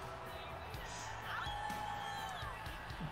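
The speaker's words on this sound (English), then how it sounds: "we got a fan in the crowd howling like a wolf" A crowd in the WWE 2K24 video game roars, and one fan in it lets out a drawn-out, wavering wolf-like howl partway through over a steady, fairly distant arena murmur.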